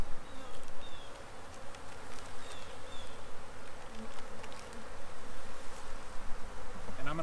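Honeybees buzz inside an opened beehive during an early-spring hive check, a dense, steady, close drone that continues throughout with only minor swells in loudness.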